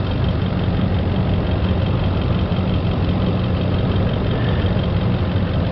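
A Nissan Armada or Titan engine idling steadily while warming up, a constant low rumble heard close and alone with no talk.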